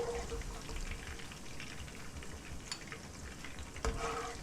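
Onions frying in oil in a pan for Vietnamese-style grilled pork, a dense, even sizzle close by with occasional clinks of a utensil against the pan.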